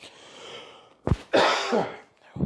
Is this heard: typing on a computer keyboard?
no